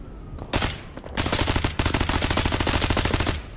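SMG bursts in the FPS game Out of Action: two short opening shots, then long, rapid automatic fire rattling loudly and continuously with only a brief gap.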